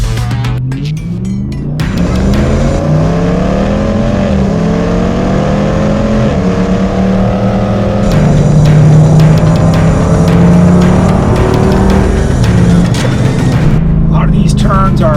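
A Jeep JLU with a 392 HEMI V8 on 40-inch tires runs fast through winding turns, its engine loud and close with rising and falling revs and a continuous roar throughout.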